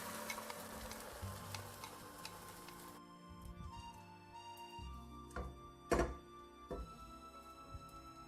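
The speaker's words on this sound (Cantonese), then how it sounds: "我哋煎一個蛋皮" Beaten egg mixed with pepper, cornstarch water and a little oil fries into a thin sheet in a pan, a soft sizzle that cuts out partway, then a few light clanks and thuds of the pan.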